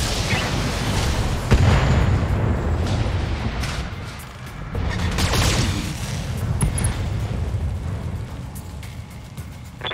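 Artillery fire and explosions in the video game Battletech, heavy booms and rumbling blasts hitting repeatedly over a sustained low roar, with a brief voice over the barrage.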